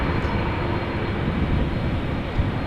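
An Air Astana Airbus A321neo jet airliner departs Schiphol Airport in Amsterdam, bound for Atyrau, giving a steady, even broadband engine rumble at moderate distance with no talk over it.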